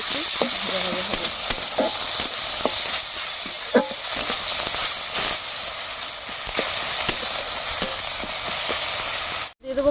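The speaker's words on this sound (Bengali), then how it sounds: "আদা রসুন বাটাটা একটু ভাজা ভাজা হবে।" Ginger garlic paste frying in a pan gives a loud, constant hiss and sizzle throughout, with occasional faint clicks of stirring and a brief drop near the end.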